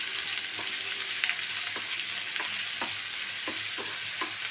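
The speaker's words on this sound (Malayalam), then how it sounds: "ഇഞ്ചി വെളുത്തുള്ളി പേസ്റ്റ്, എല്ലാം കൂടി നന്നായിട്ട് ഫ്രൈ ആക്കാം" Ginger garlic paste fries in a pan with a steady, hissing sizzle, broken by a series of soft, regular spoon scrapes as it is stirred close by, with no talking.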